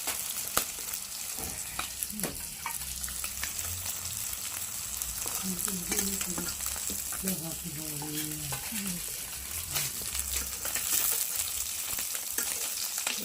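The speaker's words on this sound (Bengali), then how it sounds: "বড়া ভাজা দিলাম" Fritters frying in oil, with a steady crackling sizzle and occasional stirring clicks and scrapes, while a voice briefly murmurs in the middle.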